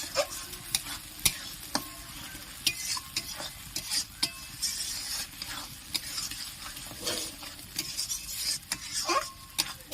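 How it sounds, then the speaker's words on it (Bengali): Poppy-seed spice paste for a shrimp and pointed gourd curry is stir-fried in a pan: a quiet sizzle under repeated sharp scraping and tapping of a spatula against the pan, close and without talk. "এবার আমি মশলাটি ভালো করে কষে নেবো"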